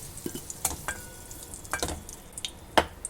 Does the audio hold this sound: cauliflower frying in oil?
yes